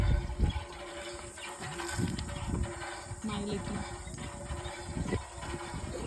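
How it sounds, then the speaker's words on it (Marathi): Water being filled from a borewell on a farm, heard as a continuous rushing gush with irregular splashes and glugs, close by, while people talk nearby. "बोरिंगवर चाललंय पाणी भरणं"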